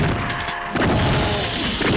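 A barrel shot in Doom 3 explodes: a heavy, loud boom bursts in partway through and is followed by a rumbling tail.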